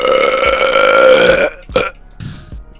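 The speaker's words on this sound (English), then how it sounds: "it's just you burping" A person lets out a long, loud, droning burp during a Black Ops 2 session, close to the mic and lasting over a second, then trailing into a couple of short gurgly afterbursts.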